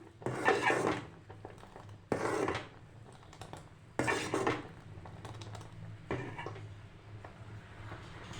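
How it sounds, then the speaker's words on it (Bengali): Payesh, a sweet rice pudding, is spooned from a pot into a small bowl: several separate bursts of metal spoon scraping and clinking against the dishes, close and quiet, with short pauses between scoops. "ছোট্ট একটা বাটিতে আমি অল্প করে তুলে তোমাদেরকে দেখিয়ে দিচ্ছি"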